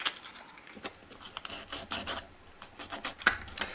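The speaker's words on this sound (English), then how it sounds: "get rid of that burring and neaten it off again with the sandpaper" Sandpaper smoothing burrs and edges off handmade tabletop wargaming terrain pieces: short, close, dry rasping strokes repeating in an uneven rhythm with no speech.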